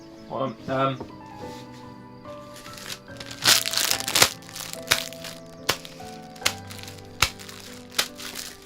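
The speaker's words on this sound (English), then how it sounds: "my shoes crunching against gravel" Gravel crunching under shoes as a video game effect, a string of sharp crackling steps at an irregular walking pace over a soft background of tones and music, close and fairly distinct.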